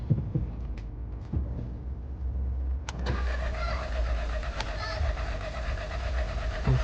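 Non-running VW Polo TSI cranking as it tries to start, a rhythmic starter churn that settles into a steadier running engine hum, heard close and moderately loud.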